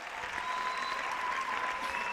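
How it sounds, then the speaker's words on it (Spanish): Steady applause from a crowd at a murga carnival contest fills the space, dense and continuous throughout. "Fortes aplausos."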